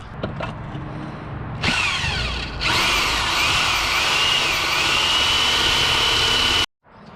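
A power drill opens up mounting holes for a Corbeau seat in a Toyota Sequoia. A couple of short starts are followed by a loud, sustained high whine that cuts off abruptly.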